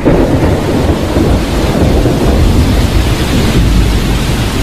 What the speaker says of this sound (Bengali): মুষলধারে বৃষ্টি নামল